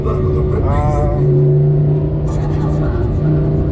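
Lamborghini Huracan 5.2 V10 revving up close, its deep engine rumble swelling and settling with brief crackles from the exhaust, while people talk over it.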